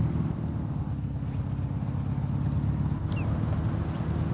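A Volga car in the Farming Simulator 17 game runs with a steady, loud low engine drone throughout as it starts and backs up, with no talk over it.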